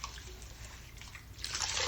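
Water rinsing conditioner out of hair, a steady close hiss of running, splashing water that swells louder toward the end, with no talking.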